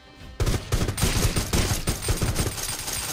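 Rapid gunfire crackles through the Rules of Survival battle-royale game, a dense run of loud close automatic bursts starting abruptly and continuing without pause, no voices over it.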